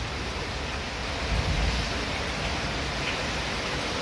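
Floodwater rushes continuously, a broad steady roar with a slight swell midway, no voices heard.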